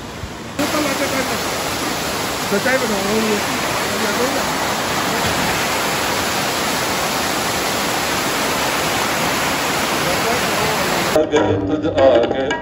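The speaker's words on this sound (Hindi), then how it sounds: "ये एक छोटा सा वाटरफॉल अभी आपको दिखाते हैं इस ट्रैक के दौरान" A small waterfall on the Hemkund Sahib trek in Uttarakhand roars as a steady, loud, broadband rush of falling water, continuous and close throughout, with faint voices beneath.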